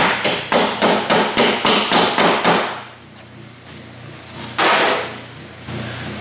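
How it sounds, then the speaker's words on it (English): Sharp, evenly spaced metallic taps ring out about eight times as a hinge pin is driven up into a Honda Odyssey sliding door, followed by a pause and then one more louder tap. "We're going to slide our center pin back in, our hinge pin. It's going to tap it up all the way from the bottom."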